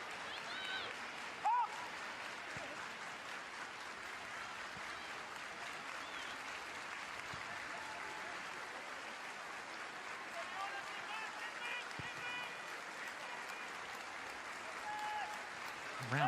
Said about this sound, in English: Round of applause that you can hear echoing around the stadium